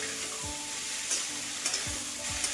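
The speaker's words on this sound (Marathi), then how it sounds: "आता हे भाज्या आपल्याला मसाल्यांवरती छान असे परतून घ्यायचे आहेत 2 मिनिटसाठी" Vegetables sauté in spice masala for bhogi bhaji (khengat) made with peanuts, sesame, jaggery and coriander, a steady close sizzle with occasional spoon scrapes and soft thumps.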